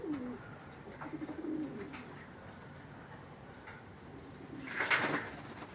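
Pigeons coo softly in a low, rolling rhythm, a few calls near at hand at a pigeon loft with a bathing tray set out for the birds, ending in a brief louder rustle.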